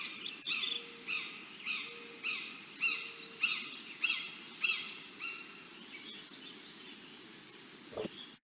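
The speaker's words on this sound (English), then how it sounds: "There's the hawk again." A recorded hawk call played back, sounding as a series of repeated high, sharp cries about once a second over a low steady hum, ending with a brief handling thump.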